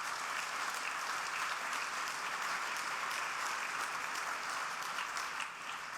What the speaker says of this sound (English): I think that deserves a round of applause between you and me.